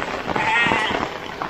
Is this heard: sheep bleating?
yes